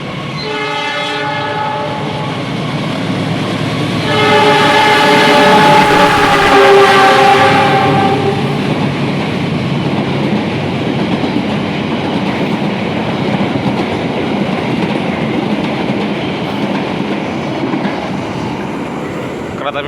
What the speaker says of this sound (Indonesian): Kereta api Mutiara Selatan teman-teman